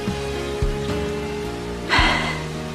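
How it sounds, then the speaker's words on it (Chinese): Heavy night rain falls in a historical drama scene, a constant hiss of drops with faint soft thumps and a brief louder swell, under a low sustained musical tone. "这雨是越下越大了"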